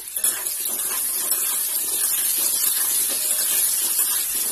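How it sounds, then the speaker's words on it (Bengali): Potatoes frying in hot oil while making vegetable khichuri, a loud, steady broadband hiss and sizzle that holds evenly from start to finish with no voices. "ওই তেলের মধ্যেই আমি দিয়ে দেব আলু আলুটাকে ভালোভাবে"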